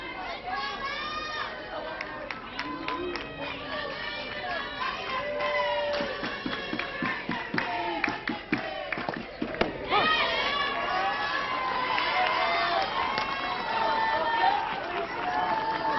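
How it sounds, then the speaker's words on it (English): A college softball crowd at Oklahoma versus Morgan State draws out a long low chant of "Lou" for a player, rising and falling over the stadium din while a commentator talks over it. "You heard the crowd. They're not booing. They're saying Lou."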